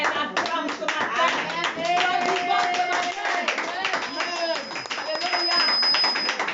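A church congregation applauding during a deliverance service, dense sustained clapping from many hands close by, with voices calling out over it.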